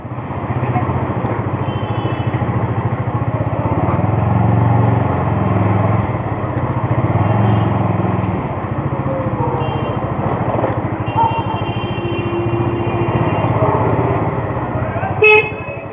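A motorbike threads through a night-time traffic jam, its engine droning steadily close by while car and bike horns toot repeatedly around it, with a brief sharp bump near the end.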